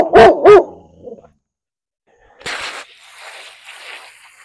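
Dogs barking outside, two sharp, loud barks close together at the start, followed by a pause and then softer rustling noise.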